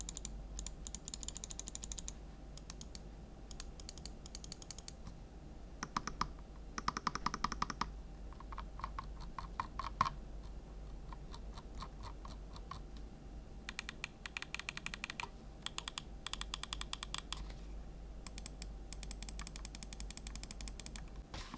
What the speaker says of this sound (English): Moving on to the buttons, here's a listen to each.